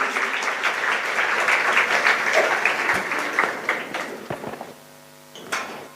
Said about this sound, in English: Let us give a big round of applause for them.